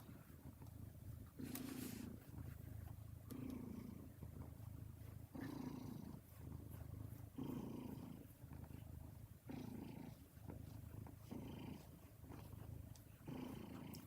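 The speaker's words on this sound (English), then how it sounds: "She's a loud purr." A cat purring loudly up close, a deep rumbling rhythm of repeated breaths swelling and easing over and over, steady and strong.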